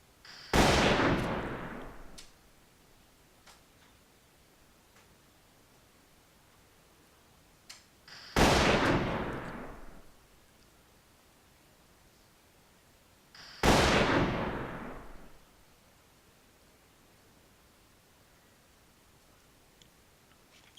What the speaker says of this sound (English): Having a gunfight with somebody, evidently.